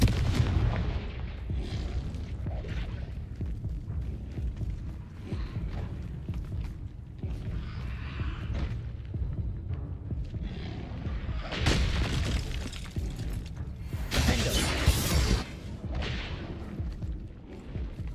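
Confringo fire spell blasts in the PC game Hogwarts Legacy ring out as loud, sharp booms and crackling bursts over constant rumbling battle noise, with the brightest explosive hits clustered near the end.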